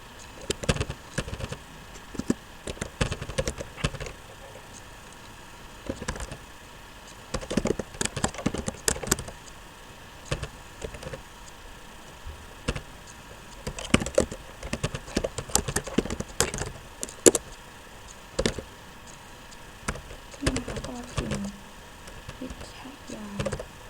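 Keys clatter on a computer keyboard in uneven bursts of typing, close and fairly loud, with a voice speaking softly between the bursts.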